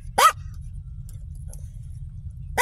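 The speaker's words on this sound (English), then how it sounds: "Barking at everything." A single sharp dog bark rings out close by inside a van, followed by near silence over a low hum, with the start of another bark at the end.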